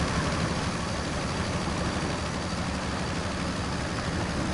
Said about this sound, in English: That engine sounds like a sports car almost.